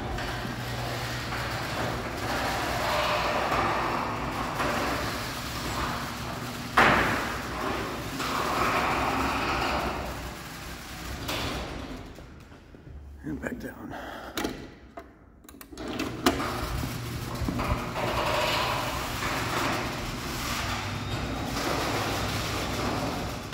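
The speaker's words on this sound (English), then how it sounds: "The reason the door makes so much noise is because all the plastic is on the outside still." A LiftMaster 84505R garage door opener runs the door, a steady close mechanical drone and rattle that briefly thins and quiets in the middle before resuming, with a sharp clunk near the start.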